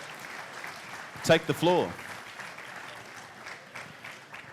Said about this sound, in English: So let's give them a round of applause, guys.